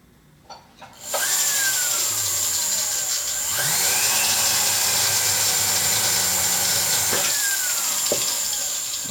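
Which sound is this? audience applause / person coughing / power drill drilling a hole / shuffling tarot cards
power drill drilling a hole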